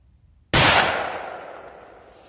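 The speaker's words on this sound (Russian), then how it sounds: "Корсар 4 от фирмы Комета" A Korsar 4 firecracker made by Kometa goes off in one sharp, loud bang after a short quiet, and its roar fades slowly over the following two seconds.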